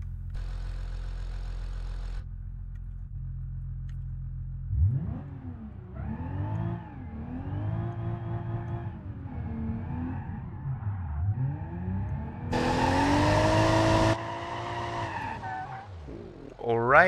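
Muffled car engine and tires heard from the driver camera inside a vehicle in BeamNG.drive, rising and falling revs with tire squeal and a brief louder burst near the end, after an opening low drone.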